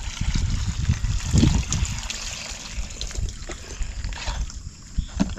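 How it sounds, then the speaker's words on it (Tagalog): Water splashes and gurgles as it is poured into a planting hole for tomato seedlings in a farm field, a continuous low trickling with a few heavier gushes. "Nilagyan na po natin siya ng tubig."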